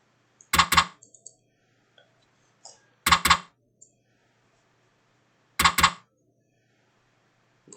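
A computer mouse double-clicks three times at steady intervals of about two and a half seconds, each pair of sharp, close clicks standing alone in a quiet room while setting up the WinUAE Amiga emulator.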